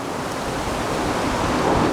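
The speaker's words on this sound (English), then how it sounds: "Big wind just kicked up and I'm feeling raindrops" Strong wind gusting outdoors with raindrops starting, a continuous broad roaring rush that builds a little toward the end, close to the microphone and with no one talking.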